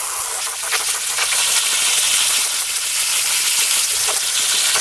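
Super Clean degreaser hisses out of a spray bottle onto a scrub brush in a loud, close, continuous spray lasting several seconds.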